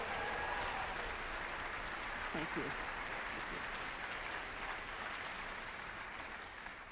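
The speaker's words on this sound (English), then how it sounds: "So we're going to give a clap for Carol Wysocki and all of hers." Steady audience applause fills a concert hall stage performance, a dense, even wash of clapping that slowly fades, with a brief spoken thanks under it.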